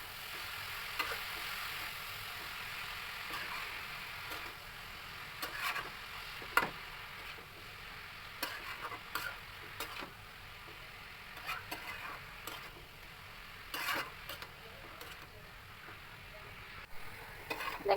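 Greens stirred in a pan with onion, garlic and shrimp: a quiet, steady frying sizzle broken by intermittent clicks and scrapes of the utensil.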